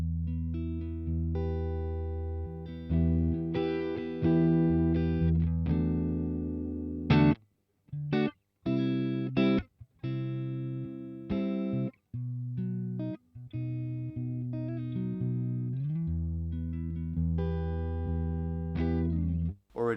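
Electric guitar through a Boss Katana Mk II amp on a plain clean tone with all controls at halfway, dry and unprocessed, playing a run of sustained chords and choppy stabs with brief gaps, loud and alone.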